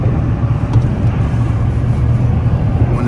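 A Kenworth W900 truck engine rumbles steadily at close range, a continuous low drone with no pauses and no voices.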